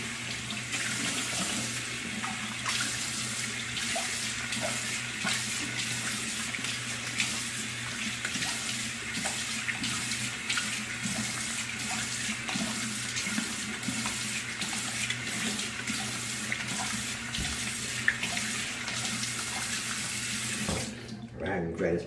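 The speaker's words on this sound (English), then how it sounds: "cold water rinse" A tap runs steadily into a sink for a cold water rinse after a shave with a shavette razor. The water hisses continuously, close and even, then cuts off near the end.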